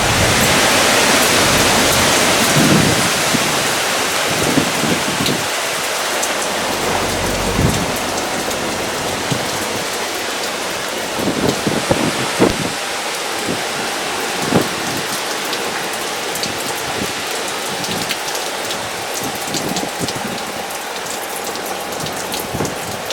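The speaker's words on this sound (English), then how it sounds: "Still getting a few big gusts, as you can tell." Hurricane Laura brings heavy rain that hisses steadily and loudly on surfaces throughout, while stronger wind gusts swell the roar at a few points. There is no talk.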